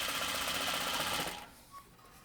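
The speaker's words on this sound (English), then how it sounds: "Sometimes it's just fun to sew fast. I like to sew fast." Sewing machine stitching rapidly in a steady, dense whir while sewing a double-fold wristlet strap, loud and close, then cutting off abruptly partway through, leaving quiet room tone with a brief small tick.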